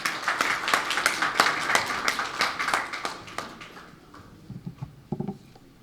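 An audience at a programme launch ceremony in Belize applauds with dense, lively clapping that gradually thins and fades. A few scattered, louder claps follow the fade.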